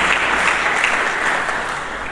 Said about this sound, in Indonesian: Mari kita berikan tepuk tangan yang meriah bagi Yesus Kristus.